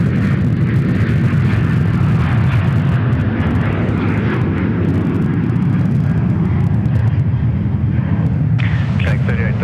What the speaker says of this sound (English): That Zoom Samoa aircraft.